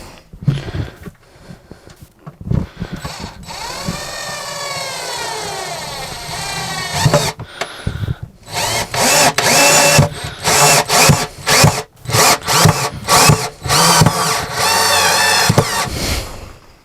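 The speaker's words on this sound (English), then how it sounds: "Little Ferrex drill." Small Ferrex power drill whirring in bursts while building a bench seat, loud, close, with repeated spin-ups, pauses and changes in load.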